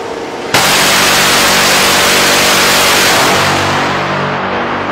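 The four-barrel 25mm GAU-22A cannon of an F-35 fires a single continuous, loud, tearing burst. It starts abruptly and roars steadily for about four seconds before slowly tailing off.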